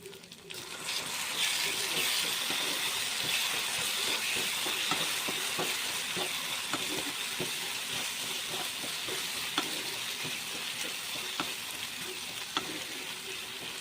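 Spice paste fries with browned onions in a pan, making a steady crackling sizzle with frequent small pops that starts after a quiet moment and continues throughout.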